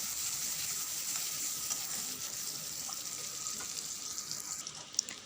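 Onion frying in hot oil for a greens dish in a home kitchen, an even hissing sizzle that runs steadily throughout, close and moderate, ending with a single sharp tap.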